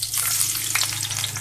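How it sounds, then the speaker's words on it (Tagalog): Pancit canton noodles fry in a pan still greasy from heating chicken, giving a steady close sizzle with a crackling hiss and a low hum underneath, and no talk. "Luluto ako ng pansit canton pandagdag sa lunch. Dito na lang din sa pinagpretuhan ng pinag-initan ng manok."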